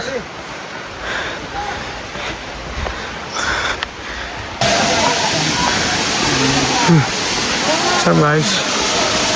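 Katiki waterfall in Araku roars as a broad, steady rush of falling water that swells louder partway through, while people talk over it.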